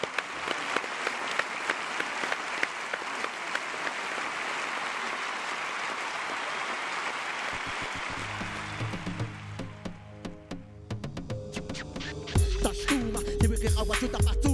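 Audience applause after a Mexican rap performer's introduction on a talk show, steady dense clapping for about eight seconds that fades out as rhythmic music and vocals take over.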